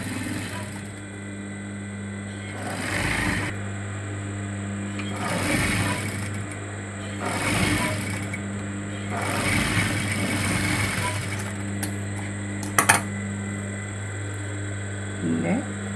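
A sewing machine stitches fabric in repeated runs, its motor whirring up in short bursts over a steady mechanical hum, close and fairly loud with no talking.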